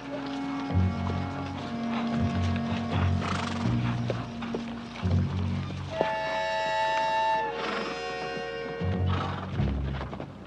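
Horses clip-clop and trot off in an Old West television western, steady hoofbeats carrying through the clip alongside a whinny and background mechanical clatter, with no talk.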